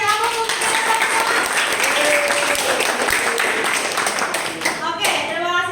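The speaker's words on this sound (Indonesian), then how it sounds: "Kasih aplaus untuk kita semua." A class audience claps in sustained, dense applause that carries on for several seconds before tapering, with voices mixed in underneath.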